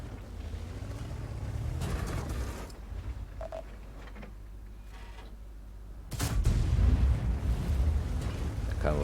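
The Object 705a tank's gun fires in World of Tanks with a sudden heavy boom, followed by a rumbling roar that cuts through the low engine drone of the battle.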